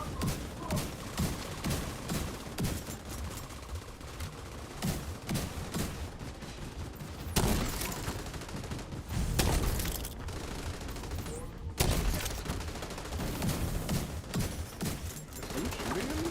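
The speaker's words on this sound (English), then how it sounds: "Are you shooting at me?" Volleys of video game gunfire, fairly faint and distant, with scattered bursts and clustered shots that swell and fade over a busy background, while someone talks now and then.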